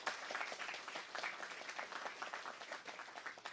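A ceremony audience claps steadily in a round of applause at a court investiture, a dense, even patter of many hands that holds at moderate loudness throughout.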